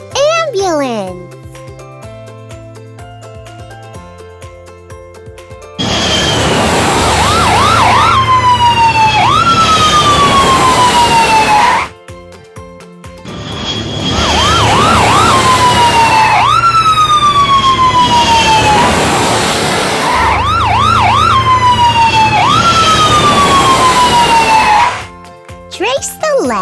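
An ambulance siren wails in repeated sweeping cycles, loud and close, after a short opening of chiming tones and a voice.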